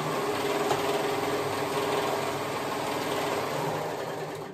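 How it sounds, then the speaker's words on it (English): A sewing machine runs continuously at a steady fast speed as it stitches the side seams of a dress, with a constant close whirring hum and no talking. "I'm gonna sew those sides together."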